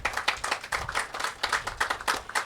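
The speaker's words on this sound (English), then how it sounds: "Please give them a round of applause." A group claps in applause at an equipment handover ceremony, a dense patter of hand claps filling the space, steady and fairly close.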